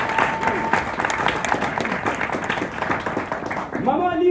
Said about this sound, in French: On peut applaudir pour elle, amen.